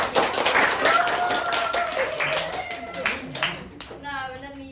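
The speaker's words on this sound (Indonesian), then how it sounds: "Tepuk tangan dulu nggak sih" A classroom of students claps their hands together in a rapid, scattered burst of applause that fades over a few seconds, with voices chatting around it.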